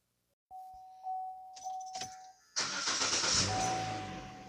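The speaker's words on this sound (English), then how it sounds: "So we're just going to run this vehicle for some time." A 2014 Chevrolet Sonic with a 1.8 engine, troubleshooting a lean fault, chimes and clicks before the engine turns over and settles into a close, steady running hum, with no voices.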